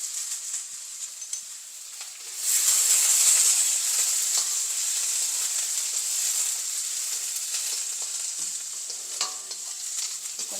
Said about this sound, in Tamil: சேர்த்து இது நல்லா வதங்க விடுவேன்